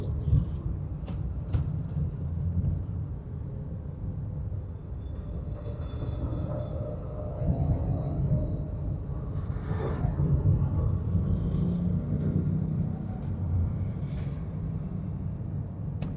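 A vehicle pulls along in third gear with a constant low engine and road rumble, broken by occasional short hissing bursts, and no one speaking.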